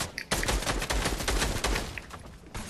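Rapid bursts of gunfire in the Fortnite video game, sharp repeated shots in a dense fusillade with brief pauses, loud and close throughout.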